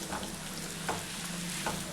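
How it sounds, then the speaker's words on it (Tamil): Peeled garlic sizzles as it sautés in a pan for a fenugreek gravy, a dense, steady frying hiss with a few faint stirring clinks, alone and close. "இது வதங்கும் போது நல்லா ஒரு கைப்பிடி அளவுக்கு உரிச்ச பூண்டு சேர்த்துக்குங்க."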